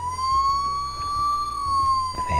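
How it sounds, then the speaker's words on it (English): Playmobil 5541 toy ambulance siren sounding a steady, slowly wavering electronic tone, close and fairly loud, with a low buzzy hum beneath it and no talk. "there are two versions of the siren."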